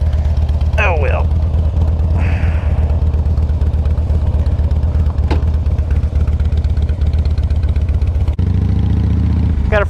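Motorcycle engine running steadily with a low, constant drone throughout, overlaid by wind noise and a voice talking.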